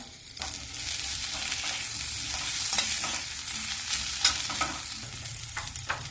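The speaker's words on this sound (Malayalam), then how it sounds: "കുറച്ച് മല്ലിയില മുറിച്ച് ചേർത്ത് ഇളക്കി കൊടുത്ത ശേഷം തീ ഓഫ് ചെയ്യാം." Potato sabzi with chopped coriander is stirred in a hot pan, a continuous close sizzle overlaid with repeated scraping and tapping of the spoon against the metal.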